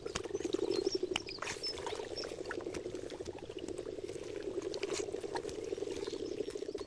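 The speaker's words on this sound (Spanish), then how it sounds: "Centenares de ranas se dan cita aquí." Hundreds of frogs croak together in the shallow, warmer water at the edge of a mountain lake in the Tatra Mountains, a continuous dense chorus of rapid trills heard steadily with faint splashes and clicks.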